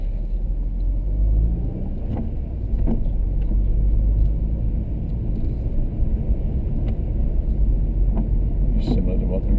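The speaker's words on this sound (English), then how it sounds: "there's a car coming behind" Car engine rumbles steadily as a car comes up from behind on a village street, a continuous low drone with faint knocks and brief sounds of passing traffic.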